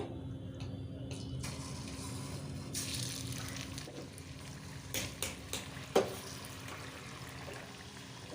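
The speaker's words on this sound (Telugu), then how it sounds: "ఆయిల్ అయితే వేడైందండి ఇప్పుడు రెడీ చేసుకున్న రోల్స్ అయితే వేసుకొని ఫ్రై చేసుకోవాలి" Vegetable rolls deep-fry in hot oil, a faint steady bubbling hiss with occasional louder pops and crackles near the end, quiet and without talking.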